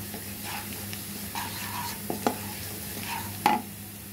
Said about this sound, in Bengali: ব্রাউন কালার হওয়া পর্যন্ত আমি এখানে এটাকে নেড়ে নেব